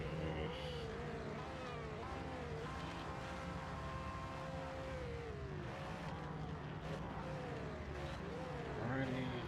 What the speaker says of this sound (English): This Audi doesn't have the best sound quality.